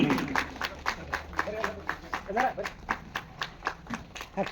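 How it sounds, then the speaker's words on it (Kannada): An audience at a high school function honouring land donors claps in a steady rhythmic beat of sharp hand slaps, continuing under someone speaking through it. "ಎರಡು ಕೈ ಇದ್ದು ಚಪ್ಪಾಳೆ"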